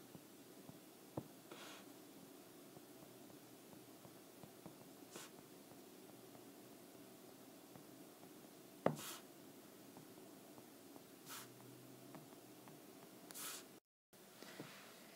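Faint, steady scratching of a pen on paper as an accounting journal entry is written out, with a few light taps and a low background hiss.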